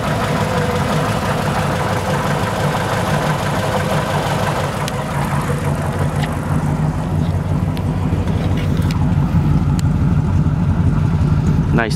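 A restored 1935 Ford Cabriolet's engine runs close by with a throaty, rumbling idle, holding a steady low throb throughout, with a faint shift partway through as it settles.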